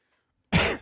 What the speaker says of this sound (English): Now I coughed.